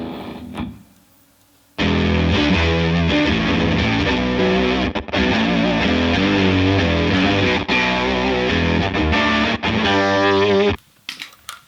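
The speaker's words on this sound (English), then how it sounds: "Here's an octave fuzz sound." Fuzzy, distorted electric guitar riff through a Line 6 Helix octave fuzz preset, with a thick, buzzing octave-doubled tone, loud and steady after a brief quiet start.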